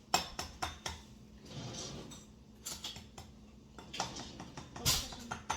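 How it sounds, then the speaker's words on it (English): An egg cracked against the rim of a small side bowl while baking blueberry muffins in a home kitchen, heard as a few sharp close taps and clinks amid other utensil knocks. "Crack that egg in there."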